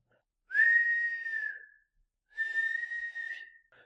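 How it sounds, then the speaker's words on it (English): Two long, high whistling tones from a gas jet, each about a second, separated by a short pause, clear and close with no other sound. "The gas jet wails whistling."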